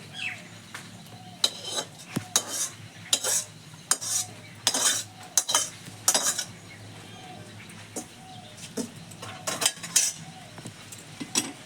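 Metal clinks and scrapes of a pan holding cooked, hand-mixed morola fish as it comes off a home stove, with short bright clatters spaced irregularly and faint birds chirping in the background.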